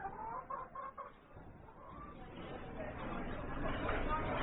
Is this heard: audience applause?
no